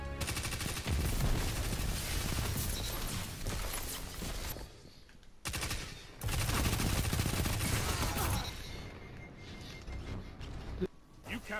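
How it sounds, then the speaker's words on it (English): The new City submachine gun in the Destiny 2 video game fires in long, rapid bursts, loud and close, with brief pauses between strings of shots and some mechanical clatter. "gonna be using the new city submachine gun"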